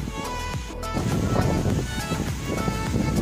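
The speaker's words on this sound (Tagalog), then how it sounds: "Sobrang lakas ng hangin dito" Strong wind buffets the microphone in loud, rumbling gusts, with a steady engine-like hum underneath.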